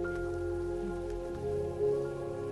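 Heavy rain in the video game Raison d'etre, a steady, close downpour hiss with a low rumble running unbroken under sustained musical tones.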